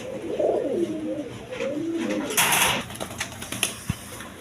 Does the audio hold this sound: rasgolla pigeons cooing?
yes